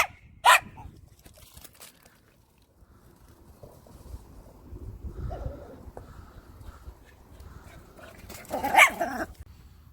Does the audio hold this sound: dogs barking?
yes